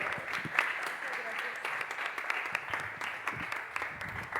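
Audience applauds at a book presentation during a university book fair, a modest, fairly quiet patter of clapping from a small crowd with a voice faintly underneath.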